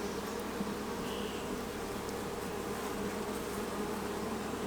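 Steady, dense buzzing of many honeybees in an open hive during a queen search, continuous and close with no breaks.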